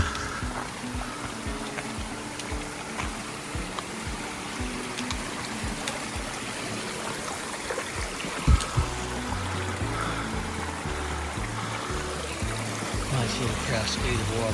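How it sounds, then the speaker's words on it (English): A small, low-running mountain creek on a coastal trail flows in a steady, soft trickle and babble. It continues throughout at a modest level without pause. "Little creek up here that doesn't have as much water in it as did the last time I was here"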